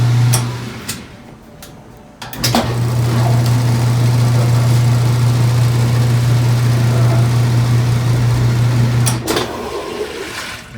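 Whirlpool washing machine spinning after a motor coupler replacement, a loud steady motor drone with a low hum, running continuously at close range with a few clicks at the start and end.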